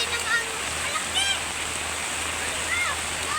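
Strong rushing water, a loud steady roar and splash like a torrent or waterfall, fills the scene continuously while faint voices and a few high calls rise over it.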